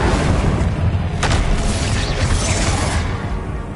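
Incendio fire spell cast in Hogwarts Legacy, a loud deep whooshing boom that rolls on for a few seconds before slowly easing off, with no voices over it.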